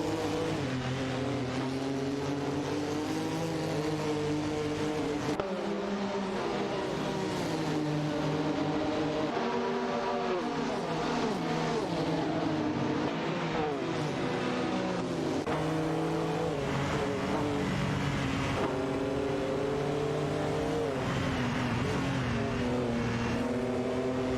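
Race cars in a video game race, engines droning and shifting pitch steadily as several cars drive, a continuous layered whine with no talking.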